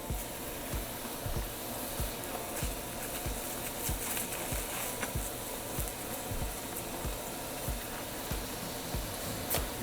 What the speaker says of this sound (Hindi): ये मैंने तेल गरम किया हुआ है, मैं कढ़ाई में ये छोटे छोटे बोल बना के इसके